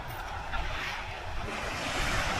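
Sea waves breaking at sunset, a soft continuous wash of surf mixed with wind noise on the microphone, steady and moderately faint with no talk.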